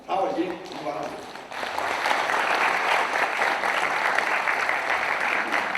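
Audience at a civic education event in Naju gives a big round of applause, beginning after a speaker's closing words and swelling into a dense, sustained wash of clapping from a large crowd filling the rest.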